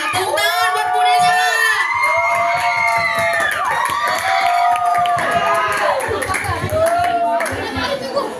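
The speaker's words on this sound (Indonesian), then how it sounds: "Tepuk tangan buat Bu Desa." A school crowd at a Christmas event at SMPN 108 Jakarta cheers, whoops and claps for a teacher, with loud, continuous shouting voices and applause filling the room throughout.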